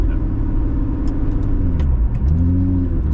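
A Lotus Emira petrol sports car engine rumbles steadily up close, with the revs rising and falling in a couple of swells amid road noise.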